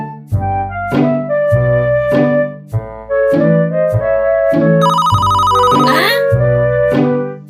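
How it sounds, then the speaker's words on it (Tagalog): A phone rings with an incoming call from a customer during a delivery run, a repeating electronic ringtone melody in steady bursts, loud and close, with a brief brighter chirp partway through. "Tumawag ang customer ko mga katambay."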